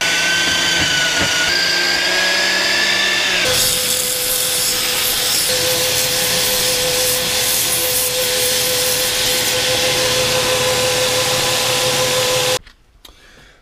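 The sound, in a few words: sanding a custom wooden shop sign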